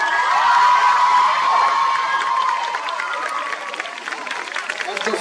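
A large audience at the Paris Fan Festival 2024 breaks into loud, continuous applause with cheers and whoops, the clapping staying dense and only easing a little toward the end.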